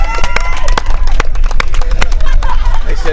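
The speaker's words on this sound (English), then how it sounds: "why don't you guys give a round of applause to your fathers and your parents for Father's Day?" Dense, loud applause from a crowd at a 12-and-under softball championship game, rapid overlapping claps with some cheering and voices mixed in, sustained throughout.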